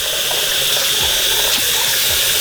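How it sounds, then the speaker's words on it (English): Steady tap water pours and splashes as peroxide bleach is rinsed out of a lace wig's knots at a sink, a loud continuous hiss of running water with no voices. "I'm basically rinsing off peroxide down like so."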